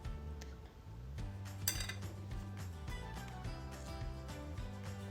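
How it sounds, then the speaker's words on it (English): A knife slices strawberries in half on a hard surface, making quiet, close taps and light clinks of metal against the plate or board in an irregular rhythm. "the other half of the strawberries I'm just going to slice in half"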